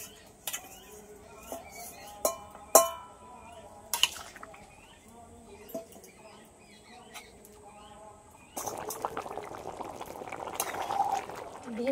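Ingredients and pre-fried tengra fish tipped into a taro curry: scattered clinks and knocks of utensils, then a louder, continuous sizzling bubble of the pan taking over for the last few seconds.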